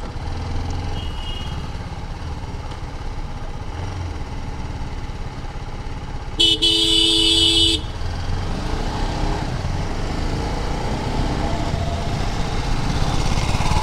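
Vehicle engines rumble steadily on a busy road, with a loud, sustained horn blast standing out briefly in the middle over the constant traffic drone.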